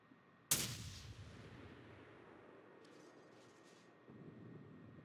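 Naval guns of the destroyer USS Mahan fire at the cruiser Atlanta in World of Warships, one loud sharp boom followed by a long rumbling decay and a low sustained hum of the game soundscape.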